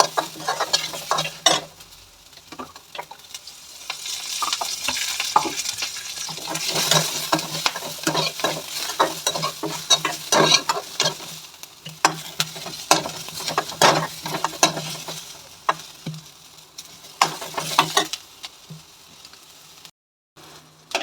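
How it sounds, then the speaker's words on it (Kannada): Turmeric-laced tempering frying in a pan, a steady sizzle with repeated scraping stirs and occasional clinks of a spoon against the metal, close and continuous with no voices. "ಚೆನ್ನಾಗಿ ಫ್ರೈ ಮಾಡ್ಕೋಬೇಕು."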